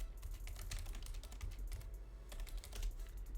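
Keys clatter in quick, uneven bursts on a computer keyboard, close and fairly quiet, with short pauses between runs of keystrokes.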